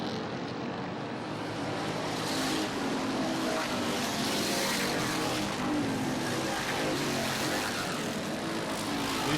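Thunder cars at Barrie Speedway roar past on the track, a dense, loud wash of engine noise swelling as the field passes close by, with no talk over it.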